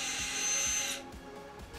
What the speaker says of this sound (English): After several minutes of drilling on the porcelain,